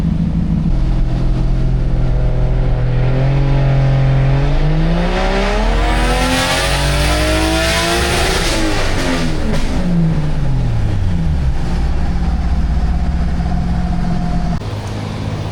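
A Toyota MkII with a 1JZ engine revving hard on a dyno at 20% boost, loud and close, the engine note climbing steadily in pitch to a peak and then dropping back down.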